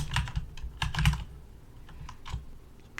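Keys tap on a computer keyboard in short, irregular clusters as HTML is typed into a text editor, close and soft, with brief gaps between the bursts.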